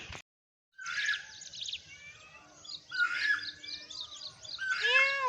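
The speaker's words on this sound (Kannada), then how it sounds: "ಬೆಳಗ್ಗೆ ವಾಕ್ ಬಂದ್ಬಿಟ್ರೆ ಹಕ್ಕಿಗಳ ಕಲರವ ನೋಡೋದೇ ಒಂಥರ ಅಲ್ಲ, ಕೇಳೋದೇ ಒಂಥರ ಚೆಂದ" Birds chirp and trill outdoors on an early morning walk, several calls overlapping at moderate distance with brief pauses, fairly quiet and without talk.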